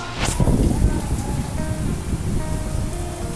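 Heavy rain pours steadily outdoors, a dense, continuous hiss with a louder burst of spatter near the start and a faint voice underneath.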